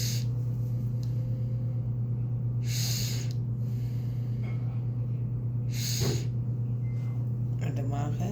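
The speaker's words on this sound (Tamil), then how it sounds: "3 தடவை உள் மூச்சு எடுத்து வெளி மூச்சு விடுங்க." Slow, deep breaths in and out, each a soft rush of air spaced a few seconds apart, heard close over a constant low electrical hum.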